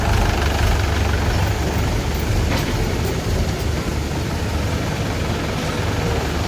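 A tractor engine runs steadily at a sewer line construction site, a loud continuous low rumble with no pauses or talk.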